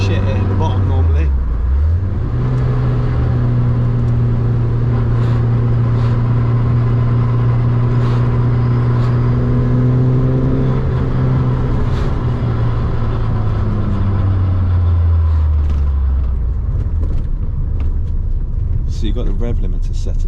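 Renault R8 prototype engine with modern ignition revving on a dyno, holding a steady loud drone that climbs, sustains at higher revs, then winds back down, with people talking over it.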